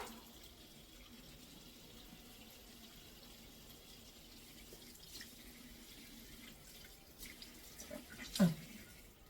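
Tap water runs steadily at a low, quiet level while someone washes at a sink, with a few louder splashes near the end.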